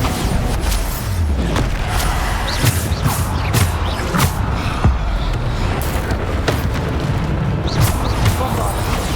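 Bombarda blasting spells from the video game Hogwarts Legacy, booming explosions repeated in a fast, dense battle barrage with creaks and impacts, loud and continuous over combat clutter.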